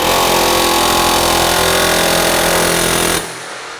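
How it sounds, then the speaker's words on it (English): Pneumatic air hammer pounding continuously on a seized rear wheel bearing of a 2004 Ford Explorer, loud, close and rapid, then cutting off abruptly near the end. "The air hammer."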